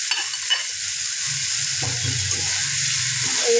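Fried brinjal is stirred in a hot pan for a Bengali eggplant and prawn dish, with a close, steady sizzle and scraping stirring strokes and no talk.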